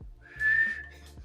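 A person whistles a single sustained, clear high note to call a child, lasting about a third of a second and heard close and alone in a quiet room.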